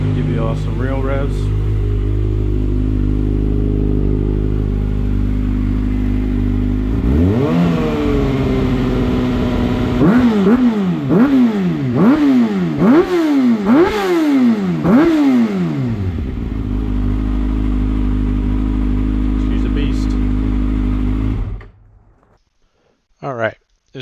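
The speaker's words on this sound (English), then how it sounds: "Now that she's warmed up, I'll give you all some real revs." A warmed-up Kawasaki ZX-6R race motorcycle rises from idle into a run of loud, rapid revs, repeated sharp throttle blips climbing and falling, then settles back to idle before shutting off.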